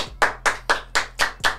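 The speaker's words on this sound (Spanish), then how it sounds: "dame un aplauso" Six sharp, evenly spaced claps roughly a quarter second apart, close and loud, from a single pair of hands at a Philadelphia freestyle music show, with a low steady hum underneath.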